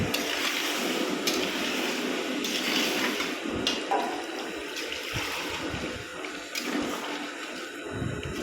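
Water pours steadily into a pot of mutton curry with potatoes, a continuous rushing splash lasting several seconds, with a few clinks and no talking.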